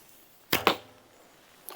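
An arrow leaves a Sanlida Noble wooden takedown bow as two sharp close twangs in quick succession, fading out, then a faint thump follows a second later.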